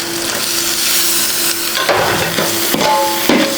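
Native tomatoes tipped into hot frying biryani masala in a pot and stirred with a utensil, giving a short burst of sizzling and scraping clatter up close, with no talk.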